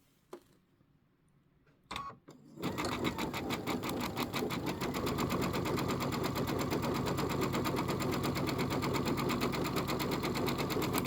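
A sewing machine fitted with a dual feed walking foot pieces border strips for a bench pillow, starting after a couple of handling clicks and then running continuously in a fast, even rattle up close.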